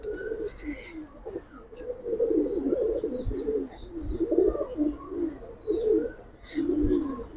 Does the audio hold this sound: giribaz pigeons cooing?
yes